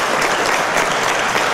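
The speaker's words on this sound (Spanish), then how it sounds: "Tras la finalización recibió aplausos de los ministros" Steady applause from ministers filling an assembly chamber during a political impeachment trial, a dense continuous patter of many hands clapping with no pauses.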